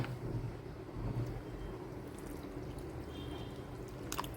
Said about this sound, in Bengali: এর মধ্যে পরিমাণ মতো জল দিয়ে মেশাবো